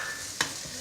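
Mashed potatoes with carrot pieces being stirred in a pan, a soft continuous sizzle with a single sharp scrape of the spoon near the middle, close and fairly quiet.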